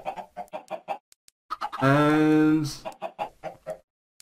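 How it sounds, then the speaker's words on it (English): Chickens from the Minecraft video game clucking in short repeated bursts at an automatic chicken dispenser, with one long drawn-out squawk in the middle; close and fairly loud, alone apart from a single spoken word. "This is basically an automatic chicken dispenser."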